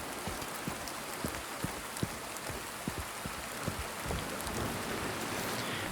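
Rain falling in the Silent Hill 2 remake, a dense steady patter on surfaces with scattered heavier drips and taps, close and even with no speech.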